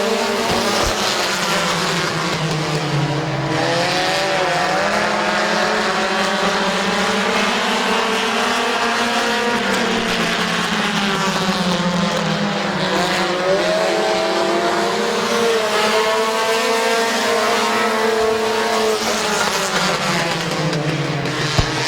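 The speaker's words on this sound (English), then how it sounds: "Green flag is out for first heat race of the South Philly Compact Compacts" Compact race cars from the South Philly Compacts class roar through a heat race at Midvale Speedway, several engines droning loudly with sweeping pitch changes as they pass, continuous and close with no talk.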